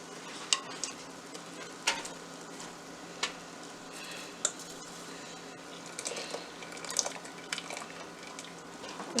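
Parboiled basmati rice goes into marinated chicken in a pot for dum biryani, heard as soft scattered clicks and sprinkles with occasional sharper taps of a spoon over a faint background; no talking.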